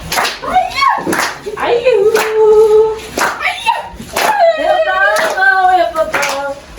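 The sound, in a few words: church congregation clapping hands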